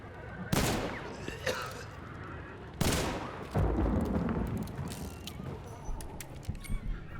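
Two sharp, loud gunshots from the Uppercut Precision weapon in the video game Hunt: Showdown, each followed by a decaying ring, with softer mechanical clicks and handling noises between and after them.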